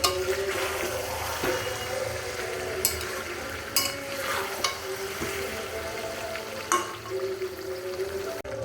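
Braised meat sizzles steadily in hot oil in a pan as a spoon stirs it, with soft scraping and occasional sharp clinks of utensil against metal over a continuous frying hiss.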